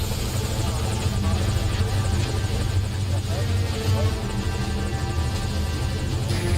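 A helicopter drones and whirs in Metal Gear Solid V Ground Zeroes at a landing zone, a loud, steady rotor roar with low buzzing hum sustained throughout, close and constant.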